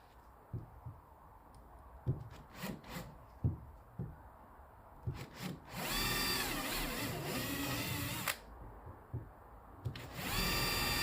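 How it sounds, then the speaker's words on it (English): Power drill driving screws into charcoal grey composite cladding boards on battens, short bursts of whirring followed by a long sustained run, with clicks and handling knocks between. "I don't drill through right into the batten because the screw needs to bite"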